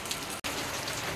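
Steady rain pouring down on a rainy day at a home, a dense even patter close by with one very brief dropout early on and no voices.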